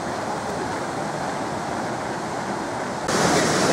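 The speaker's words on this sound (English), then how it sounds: "I'm going to shout because of the waterfall" A waterfall at Thingvellir National Park in Iceland pours with a steady, dense broadband roar that fills the whole stretch and swells louder near the end.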